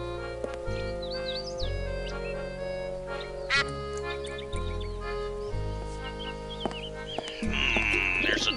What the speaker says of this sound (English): There's a duck here.